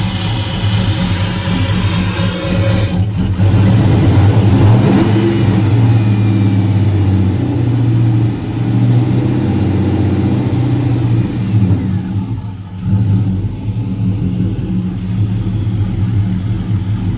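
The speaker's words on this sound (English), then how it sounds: "We got a misfire, so I gotta see what this misfire is." A 1995 Chevrolet Caprice with a swapped 5.3-liter LS V8 revs loudly and roughly close up, the engine stumbling from a misfire through sustained rumbling pulls with a brief dip near the end.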